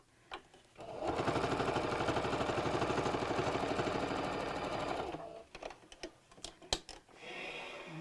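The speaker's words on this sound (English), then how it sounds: "I'm sewing through the wadding, which is why it's got a little bit noisier." A sewing machine runs steadily for about four seconds as it stitches through thick wadding on a bunny bag, with a rapid even needle rhythm close up, then stops and gives way to a few scattered handling clicks.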